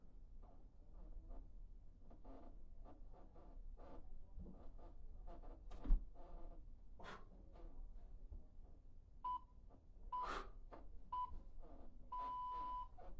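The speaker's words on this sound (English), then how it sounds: "Listen out for the timer." Workout timer during a push, pull and legs gym session: a series of short, clear electronic beeps near the end, finishing with a longer held tone, over quiet, faint rhythmic room noise.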